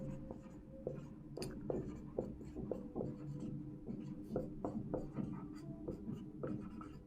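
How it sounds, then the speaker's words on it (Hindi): Pen or chalk writing a definition by hand, a run of scratchy strokes and taps in an uneven rhythm, close and moderate over a steady low background hum, with no talking. "पहले मैं परिभाषा लिखता हूं"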